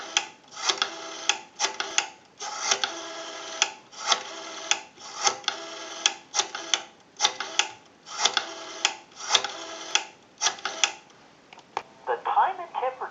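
An Automatic Electric three-slot payphone dials out a call: a rapid series of short rotary-style dialing bursts, evenly paced in clusters, followed by a brief different tone near the end.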